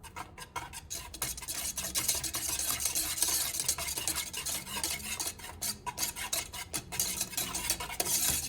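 French silk pie filling stirred in a double boiler, rhythmic scraping and clinking of a utensil against the bowl with a light sizzle underneath, close and steady.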